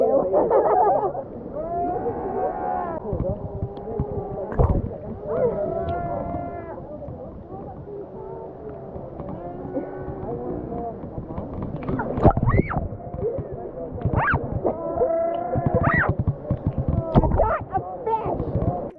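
Sea lions call near a boat at sea, repeated honking barks and groans rising in short bursts over a rough background of water and wind noise, some calls overlapping.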